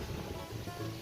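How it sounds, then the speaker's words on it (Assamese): Fresh wind blows steadily through a hill village in Assam, a broad continuous rush of air buffeting close to the microphone with no talk. "মজা সুন্দৰ বতাহ, ফ্ৰেছ বতাহ।"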